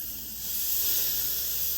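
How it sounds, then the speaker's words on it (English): Meat searing on a hot cast iron pan over charcoal briquettes, a continuous close hiss and sizzle that swells slightly and holds steady throughout. "You can hear it still sizzling."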